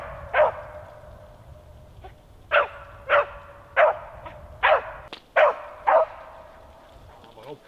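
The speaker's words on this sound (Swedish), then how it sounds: "plötsligt bryts tystnaden och vi hör Ymers skall eka in i skogen" A beagle baying while hunting hare in a forest, seven or eight loud, evenly spaced barks that ring out and echo among the trees.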